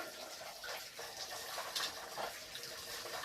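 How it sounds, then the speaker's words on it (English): Sodium hypochlorite poured into a toilet bowl after scrubbing with scouring powder, a steady close liquid gush and splash running continuously throughout with no talking. "I usually pour in the sodium hypochlorite"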